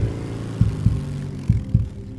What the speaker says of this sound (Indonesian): tidak terdengar suara apapun kecuali deru motor dan degup jantung